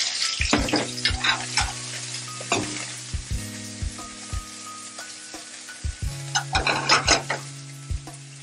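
Parsley dropped into garlic and olive oil sizzling in a pan for aglio e olio, a steady hiss broken by repeated clinks and scrapes of a utensil against the pan, no speech.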